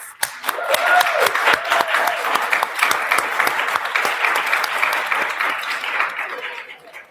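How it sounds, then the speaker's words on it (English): Audience applause after a set of student presentations, a dense burst of clapping that rises quickly, holds steady for several seconds and tapers off at the end. "all of you deserve a round of applause for some very, very excellent presentations"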